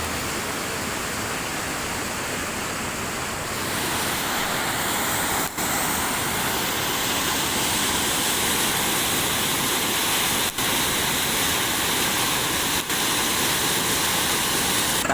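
Loud, steady roar of heavy water rushing through the Gude dam, a dense unbroken wash of noise heard up close for the whole stretch, with a few faint ticks and no voices.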